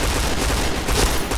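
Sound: gunshots in Point Blank video game

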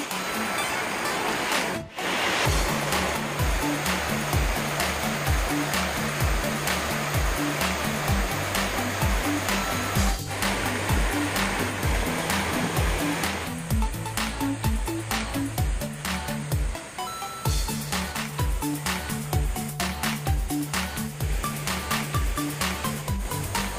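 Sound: small waterfall in mountain valley stream

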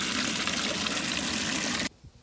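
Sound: water filling a big tub

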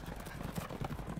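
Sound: horses, hooves clip-clopping

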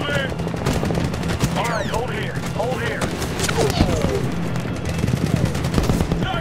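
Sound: covering gunfire in Medal of Honor 2010 video game

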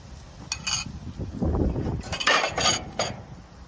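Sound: mixing shrimp paste (bagoong) with egg in a bowl

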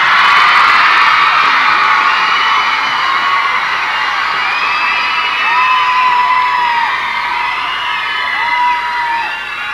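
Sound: crowd cheering and whooping

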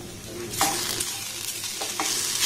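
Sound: stirring and frying spiced vegetables in a pan

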